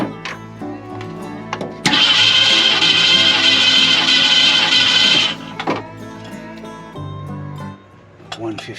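A 1950 Ford F1 engine cranks over on the starter for a compression test, giving a loud steady whirring burst of about three and a half seconds, with quieter speech and shop noise before and after it.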